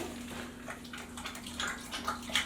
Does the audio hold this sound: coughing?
no